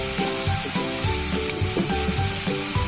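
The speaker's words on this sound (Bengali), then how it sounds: "এখন আমি দিয়ে দেবো এর মধ্যে টমেটো পেস্টটা।" Tomato paste hits ground spice paste frying in a pan for a boneless fish dish, giving a close sizzle with bubbling spits. Soft knocks, probably from a spoon or pan, recur in an irregular rhythm throughout.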